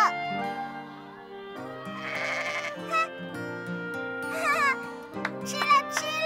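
A goat bleats repeatedly while being fed, its wavering cries rising over background music and a voice, with one especially clear tremulous bleat near the end.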